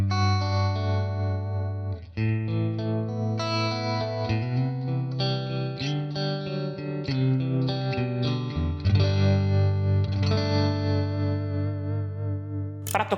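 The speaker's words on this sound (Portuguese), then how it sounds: "Como todo combo Fender, tem que ter um trêmulo." Clean Fender-style combo tone from a Valeton GP-200 with tremolo, sustained guitar chords and notes whose volume pulses in a steady regular wobble throughout, played close without talk.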